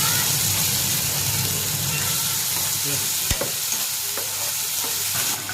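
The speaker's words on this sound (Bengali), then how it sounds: "আমার মোটামুটি ভাজাটা এসে হয়েছে।" Food sizzles as it fries in a pan, with steady stirring and scraping throughout and a sharp clink of the utensil near the end; a close, continuous kitchen sound with no talking.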